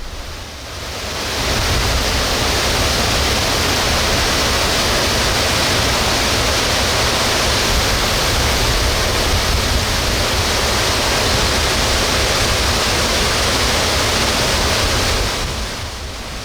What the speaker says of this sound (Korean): 엄청난 양의 물이 쏟아지는 굉음에 압도당하는 느낌입니다.